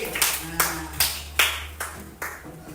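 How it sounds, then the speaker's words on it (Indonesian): Six or so separate, sharp claps in a classroom, spaced about every half second as a student group is applauded, fairly close and moderately loud. "beri tepuk tangan kepada kelompok 1"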